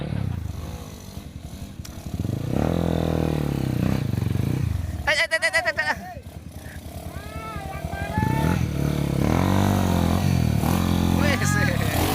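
A motorcycle engine labours and revs loudly on a steep road at Hambalang, Bogor, rising and falling as it strains, with voices talking over it and some clattering.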